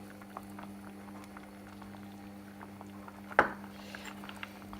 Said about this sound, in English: I'm just going to give that a stir around and leave it to simmer for 2 minutes